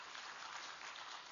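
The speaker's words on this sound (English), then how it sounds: "And give her a big applaud." An audience at a psychiatry oration event applauds a speaker, a dense, even wash of clapping heard alone and held steady for the whole short stretch.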